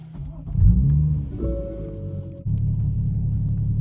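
A BMW 435i with its exhaust valve open rumbles at idle, then gives a short rev that swells and falls back to a steady, deep idle. The engine is close, with no talk over it.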